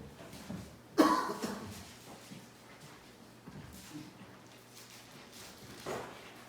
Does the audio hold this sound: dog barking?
no